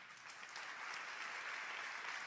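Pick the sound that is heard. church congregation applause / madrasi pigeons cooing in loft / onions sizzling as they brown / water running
church congregation applause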